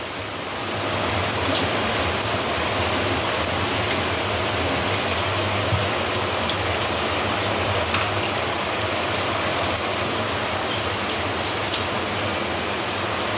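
A heavy downpour roars steadily and loudly, a dense, unbroken hiss of rain that stays constant throughout.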